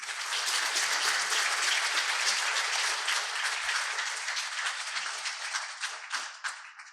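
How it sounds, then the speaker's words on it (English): Steady applause from a school audience at a Year 10 presentation assembly, a continuous crowd of clapping hands heard at moderate distance that gradually thins and fades toward the close. "I'm sure you would all like to thank her with a round of applause"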